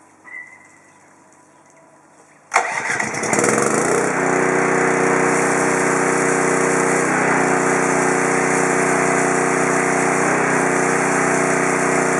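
A Subaru 3100 PSI 2.4 GPM electric-start gas pressure washer engine fires up abruptly after a quiet moment, then settles into a steady, loud, continuous running drone close by with no talk.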